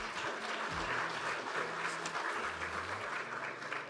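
Conference audience clapping, a dense steady round of applause from many hands sustained throughout at moderate distance, with faint voices mixed in.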